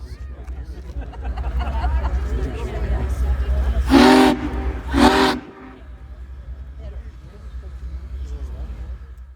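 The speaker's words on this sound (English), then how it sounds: "gives the crowd a whistle show" Big Boy 4014, a Union Pacific steam locomotive hooked up to UP 7771, gives two loud, sustained whistle blasts in quick succession over a crowd chattering at a trackside gathering, with a low engine rumble underneath.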